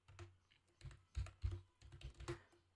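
Typing on a computer keyboard: close, crisp clusters of keystrokes in irregular bursts over about three seconds, with no voices.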